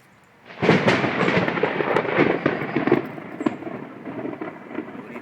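A loud crack of thunder breaks in and rolls on in a long rumble, with the steady hiss of heavy rain underneath.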